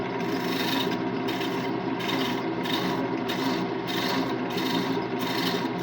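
Threads being chased into wood spinning on a lathe at about 2,000 RPM, a loud continuous scraping hum with a rhythmic, pulsing rasp as the chaser moves along the workpiece, no talking.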